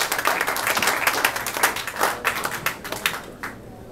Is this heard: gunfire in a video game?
no